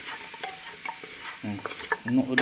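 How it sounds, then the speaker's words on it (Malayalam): Medium potatoes, about 600 grams, being stirred with masala in a pan: close scraping and stirring with a soft sizzle underneath, getting louder toward the end, no talking. "ഇനി നന്നായിട്ടൊന്ന് ഇളക്കി കൊടുക്കും"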